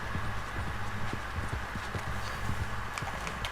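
Horse hooves clip-clop at a steady walking rhythm in a video game, the stronghold's fastest horse, sounding close and fairly loud over a constant background of game ambience.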